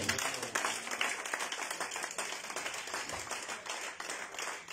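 Congregation clapping in a church during a French-language Pentecost evening service, with dense rhythmic hand claps that keep up at a moderate, steady level.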